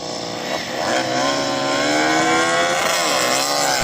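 A Porsche 911 Turbo S and KTM and MotoGP racing motorcycles launch in a straight-line drag race, engines screaming with rising, sweeping tones that climb continuously, loud and sustained throughout without any talk.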